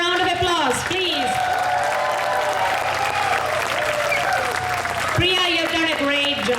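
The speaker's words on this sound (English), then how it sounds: "They need one more big round of applause, please." Audience applauding at a temple Kumbabhishekam cultural program, a sustained wash of clapping from a crowd, with a voice talking and calling out over it throughout.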